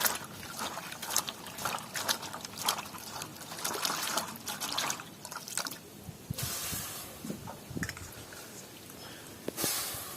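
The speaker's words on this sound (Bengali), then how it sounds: "এইবার আমি জল দেবো।" Water is poured into mung dal in a pot while a vegetarian village-style dal is cooked, giving trickling and splashing liquid sounds with uneven bursts and short pauses. The sound is moderately faint, and no one speaks.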